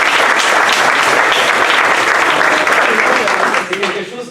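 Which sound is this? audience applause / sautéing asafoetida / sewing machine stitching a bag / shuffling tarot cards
audience applause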